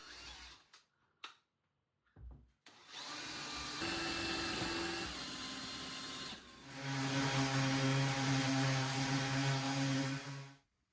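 A power drill bores holes in wooden beehive frames for a beehive simulation desk. After a few faint clicks comes a steady whirring run, then a second, stronger whine with a clear pitched hum, all fairly quiet.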